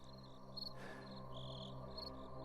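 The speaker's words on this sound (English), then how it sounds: "All Vince could hear were the crickets and his own breathing." Crickets chirp steadily at night in a still, quiet outdoor setting, a continuous high trill with brief louder pulses, close by and alone.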